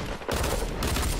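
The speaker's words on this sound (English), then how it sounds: "Where's he shooting me from?" Rapid gunfire from a Fortnite match crackles through nearly the whole moment, loud and dense after a brief lull near the start, with no talking over it.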